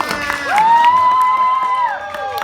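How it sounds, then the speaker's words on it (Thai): A party crowd at Singto Prachaya's birthday event claps and cheers for Jen, shrill voices whooping and shouting over brisk, scattered clapping, loud and close. "เสียงปรบมือกับพี่เจนด้วยค่ะ"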